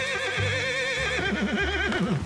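A skittish mare in Red Dead Redemption neighs loudly up close, a long wavering whinny with shaking pitch, heard alone.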